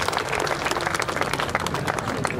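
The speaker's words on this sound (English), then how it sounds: "I'd like to give you a nice round of applause and a big clap" Outdoor crowd at the Shoreham Airshow applauding parachutists as they land, a dense, continuous wash of many hands clapping at a steady level throughout.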